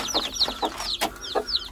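A desi hen clucks close by inside a coop, a quick run of short, repeated clucks and chirpy calls at a busy, uneven rhythm.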